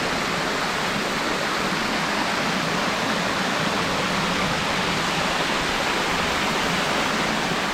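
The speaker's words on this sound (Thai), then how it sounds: "ลงไปดู น้ำที่ มันตกลงไปข้างล่างเป็นน้ำตก" A waterfall behind a stream of clear water at the foot of a cliff roars as a steady, dense, broadband rush, loud and unbroken, with no voices over it.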